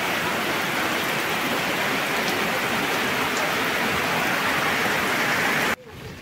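Heavy typhoon rain from Typhoon Goring pours steadily in a dense, loud hiss in Occidental Mindoro, then cuts off abruptly just before the end.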